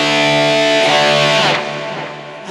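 Sustained distorted electric guitar chord ringing out with a repeating delay echo that trails off as the notes decay, loud and alone.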